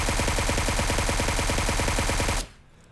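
Suppressed QBZ assault rifle in PUBG Mobile firing a sustained rapid burst for over two seconds, loud and steady, then cutting off abruptly to near quiet.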